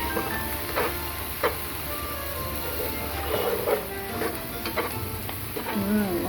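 Spicy instant ramen seasoning is stirred through a pan, with a moderate sizzle and soft scraping strokes close by. Faint tonal background sounds drift underneath.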